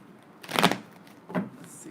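Tarot cards shuffled by hand for a love reading, two short papery riffles, close and fairly soft, with a brief pause between them.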